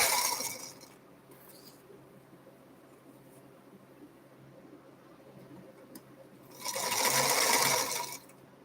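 A sewing machine stitches in two bursts, one at the start and a louder, longer run near the end, with quiet room sound between them.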